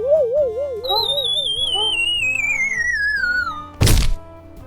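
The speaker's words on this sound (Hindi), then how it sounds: "अपने भाई को चांटा धर दिया।" A cartoonish slap sound effect lands in a multiplayer party video game, a single sharp smack near the end over bouncy, whistling game music.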